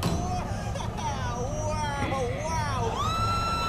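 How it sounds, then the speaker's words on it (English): A mother shouts encouragement in a TV drama scene, her high, rising calls carrying over a steady crowd hubbub for a few seconds. "It's the mom cheering her on."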